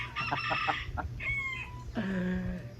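Rooster among chickens, giving short clucks followed by a drawn-out crow, fairly close, over a low background hum.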